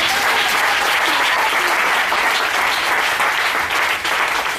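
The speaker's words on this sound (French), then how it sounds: "Est-ce qu'on va acclamer le Seigneur?" A church congregation breaks into loud, continuous applause, a dense steady wash of many clapping hands that holds throughout, acclaiming the Lord.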